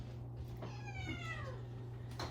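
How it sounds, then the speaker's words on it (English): A young female pet cat gives one clear, drawn-out meow with a falling pitch, heard close over a steady low background hum in a quiet home. "This is our first little kitty."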